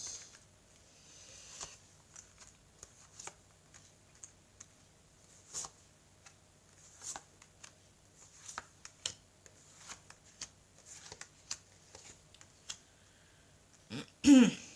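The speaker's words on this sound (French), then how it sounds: "Alors je vais donc étaler les cartes," Tarot cards being spread out across a surface and cut, giving a series of soft, scattered card slides and light taps at a moderate distance, with a sharper handling sound near the end.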